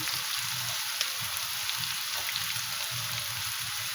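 Onion and turmeric frying in a pan for chicken kosha, a steady close sizzle with faint stirring scrapes and no talk.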